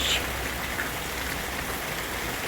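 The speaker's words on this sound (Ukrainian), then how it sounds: "І тут такий дощ." Steady rain pours down with a dense, even hiss, constant throughout and fairly close.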